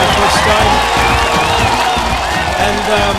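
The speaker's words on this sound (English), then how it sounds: "I want to offer a warm round of applause to those of you who are here for the first time" An audience at a Teach to Reach Connect opening ceremony gives first-time attendees a warm round of applause: dense, loud, continuous clapping with some crowd noise and cheering.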